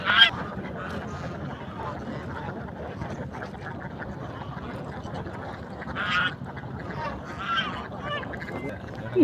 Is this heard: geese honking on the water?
yes